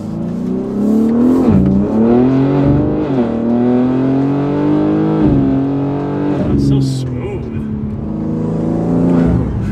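BMW G80 M3 with S58 engine and front-mount intakes revving hard from inside the car, loud rising and falling engine pitch with strong induction noise across several pulls, people talking over it.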